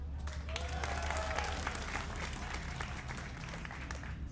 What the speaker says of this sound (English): give a cheer for Adelscott